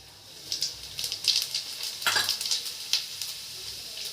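Mustard seeds and cumin crackle and sizzle in hot oil for tempering tomato pachadi, a dense run of small sharp pops and hissing spits close by, with no talking.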